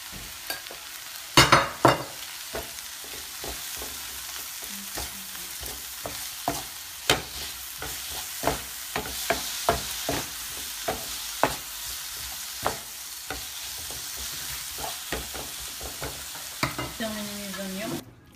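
Onions sauté in a pan with salt and pepper, giving a low steady sizzle with frequent sharp utensil clicks and scrapes throughout and a louder clatter near the start.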